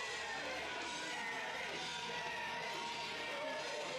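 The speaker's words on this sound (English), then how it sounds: "This capacity crowd here." A capacity crowd at a wrestling event murmurs and cheers in a steady, fairly distant din, with scattered shouts and whoops rising now and then.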